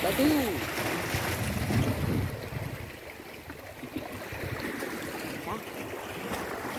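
Waves washing steadily against a rocky shore at Hapmun Beach, a continuous rushing surge with some wind, and faint voices briefly near the start.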